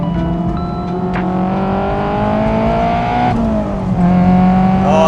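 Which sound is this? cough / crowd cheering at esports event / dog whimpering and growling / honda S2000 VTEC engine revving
honda S2000 VTEC engine revving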